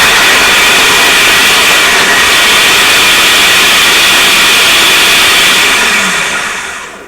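A food processor minces garlic cloves for basil pesto with a loud, steady motor whir. It holds constant for several seconds and then winds down at the end.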